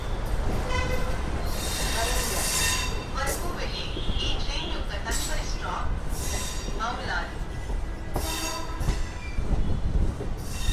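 A MEMU passenger train runs from Secunderabad toward Warangal with steady rumbling wheels, rhythmic clatter over rail joints and repeated high metallic squeals. People talk intermittently over the loud, continuous noise.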